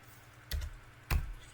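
Two sharp keystrokes on a computer keyboard, the second an enter press, each a crisp close click with a soft thud, about half a second apart in quiet surroundings.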